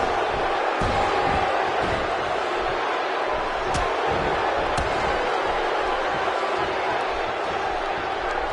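A large arena crowd roars and cheers steadily in a wrestling video game set in Austin, Texas, with occasional sharp slams cutting through the dense, continuous noise.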